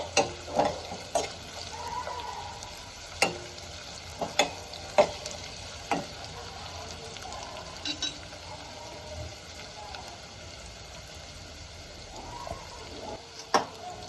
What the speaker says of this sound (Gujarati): તો એમાં લસણ અને આદુ મરચાંની પેસ્ટ નાખીશું અને થોડી ચડવા દઈશું.